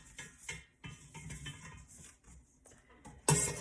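Sugar and flour for banana pudding are whisked in a bowl, giving irregular scraping and clinking strokes with brief pauses, ending in a sharper metallic clink.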